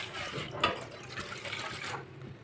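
Water pours into a glass in a short broadband rush with a brief splash near the start, steady for about two seconds, close by and fairly quiet.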